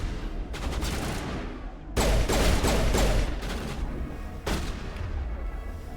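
Shotgun blasts in the video game Mass Effect Legendary Edition: loud, dense bursts of game combat fire, with sharp cracks at several points over a sustained roar of battle noise.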